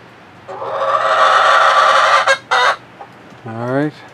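Backyard chickens call loudly and close by in their chicken run beside the coop as a storm sets in: first a long drawn-out crowing call, then a few sharp clucks and a final rising squawk, with no voices.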